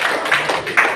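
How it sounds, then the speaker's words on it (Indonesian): A seventh-grade class clapping hands in a classroom, a brief patter of loose, uneven claps from many children over about a second. "Tepuk tangan."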